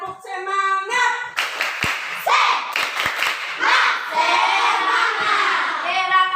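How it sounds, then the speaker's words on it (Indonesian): Children clap a rhythmic spirit chant in a classroom. Sharp handclaps and thuds break in among their sung and chanted voices, loud and close, in bursts rather than a steady beat. "Tepuk semangat."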